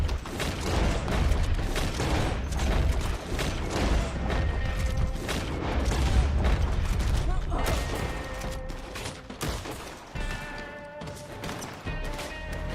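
Enemy repeater rifles firing in Red Dead Online: a dense run of repeated sharp cracks and impacts, some near and some distant, mixed with game music and other effects while someone speaks at times.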